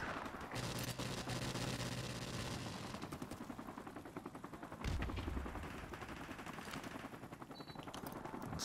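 Automatic weapon fire in Call of Duty 4 Modern Warfare Remastered, a team deathmatch on the Ambush map, with sustained rapid bursts and a heavier impact partway through.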